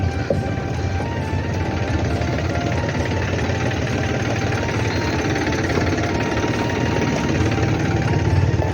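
A tractor engine runs at a pond clearing site, a loud, steady, close diesel rumble with a rapid knocking throb that continues unbroken throughout.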